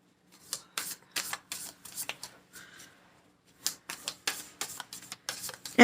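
Tarot cards being shuffled by hand in a quiet room: bursts of crisp riffling and flapping clatter come in quick rhythmic runs, with a short pause midway. The sound is close and alone.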